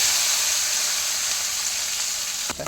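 Small onions sizzle loudly in hot oil with mustard seeds, a dense, steady frying hiss that continues unbroken, with a brief stir near the end and no talk.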